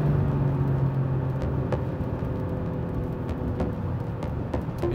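An Alfa Romeo Stelvio Quadrifoglio crossover pulls away in third gear after a downshift, a steady engine drone and road rumble heard from inside the cabin with no voices over it.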